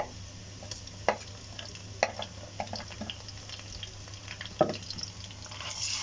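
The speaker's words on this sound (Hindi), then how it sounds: "अब इसमें लहसुन अदरक का पेस्ट डाल दूंगी" Garlic ginger paste sizzles and fries in hot oil with browned onions, a steady crackle broken by a few sharp scraping stirs of a utensil against the pan.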